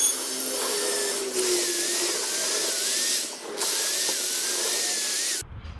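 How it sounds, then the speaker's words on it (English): Drill-driven wire brush scrubbing the brake disc bolts on a BMW 525i E60/E61 during a front rotor and pad change, a steady whirring drone with brief gaps where the tool stops and restarts. "we're going to go for the drill brush instead"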